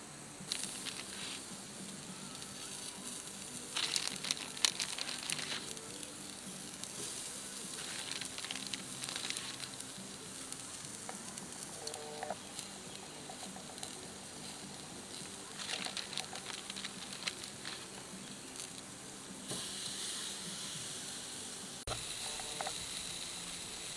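Chuck steak sizzling on a Campmaid grill over coconut charcoal, a steady close crackling hiss with scattered pops and spits running throughout, no talk over it.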